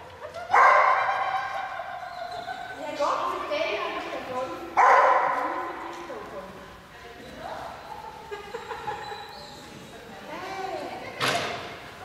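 A dog at agility training barks in a few loud, spaced-out bursts, with quieter yips and whines between them.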